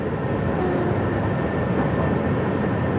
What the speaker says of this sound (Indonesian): sesaat lagi kereta akan tiba di stasiun Lampuyangan